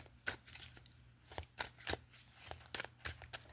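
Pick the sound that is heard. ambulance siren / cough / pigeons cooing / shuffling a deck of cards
shuffling a deck of cards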